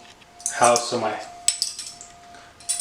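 Two metal spoons clink against each other and dishware in a kitchen, a short cluster of bright clatters followed by a few lighter taps, close and fairly loud with no talking.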